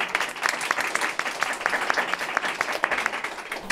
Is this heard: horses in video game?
no